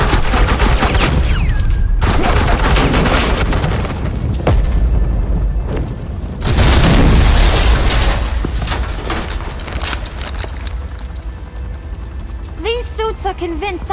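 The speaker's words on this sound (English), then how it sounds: "suppressing fire." Heavy suppressing gunfire in Batman: The Enemy Within, dense volleys of loud automatic shots and booming blasts over several seconds, with a brief quieter stretch between bursts and voices speaking near the end.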